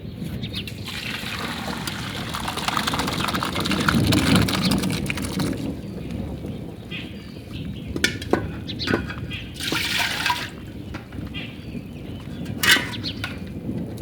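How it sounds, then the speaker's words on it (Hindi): Water from boiled macaroni pours and splashes steadily for several seconds as it drains, then thins to trickles and drips with occasional clinks, all close by. "अब हम इसका पानी निकाल लेंगे।"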